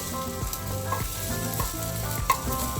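Egg vegetable bread sizzles steadily in a hot pan after being flipped, a close, even frying hiss with a few soft pops and faint tonal hum underneath.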